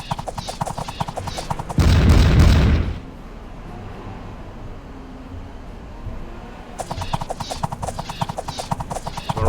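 A volley of missile fire erupts in a Pike and Shot medieval battle game, a loud dense burst of crackling shots lasting about a second, set against a steady clatter of hooves and marching.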